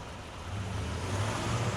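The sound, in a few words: 2015 Acura RDX engine running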